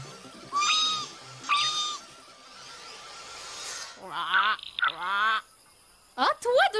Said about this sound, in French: C'est le cri de la rainette aux yeux rouges.